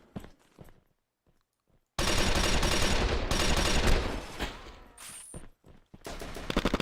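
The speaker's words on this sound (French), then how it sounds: "Ça c'est un allié qui m'a tiré dessus." In Red Crucible Firestorm, a near-silent lull breaks into a sudden barrage of loud automatic gunfire, followed by shorter bursts and scattered shots.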